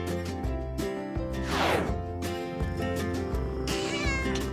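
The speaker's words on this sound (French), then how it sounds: "Oh, regarde tous ces adorables chatons. Vous avez l'air affamé." Hungry kittens meow repeatedly and loudly up close, several overlapping high-pitched cries in quick succession with no talking.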